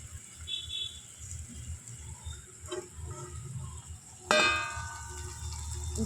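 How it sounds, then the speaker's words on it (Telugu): A metal lid lifts off a pot of dried prawn and tomato curry with a sharp clang, followed by a louder burst of bubbling and sizzling from the uncovered pan. "ఒకసారి మూత తీసి చూద్దాం."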